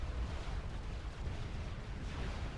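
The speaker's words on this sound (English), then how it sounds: "Look at all that artillery doing nasty" Artillery fire and explosions in a Supreme Commander 2 battle: a dense, continuous rumble of blasts and booms, heavy and steady throughout with no clear gaps.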